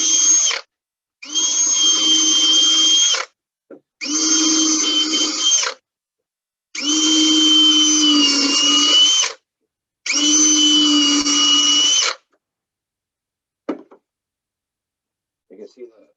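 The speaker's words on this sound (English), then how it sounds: "Come in with a power drill." A power drill drilling holes into epoxy on a table, running in five sustained bursts of a few seconds each with a high whine and short pauses between them, close and loud.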